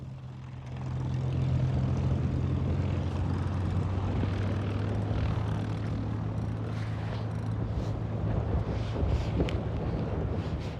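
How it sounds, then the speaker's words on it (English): A restored vintage propeller aircraft taxis toward the runway, its engine a steady, rumbling drone close by, mixed with wind buffeting the microphone. "As he taxied her to the runway threshold"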